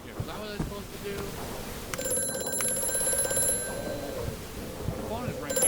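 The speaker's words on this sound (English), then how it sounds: "The phone is ringing." A phone rings in the Amnesia horror game, a steady electronic tone that starts partway through and holds for a few seconds over a murky ambient background with faint shuffling.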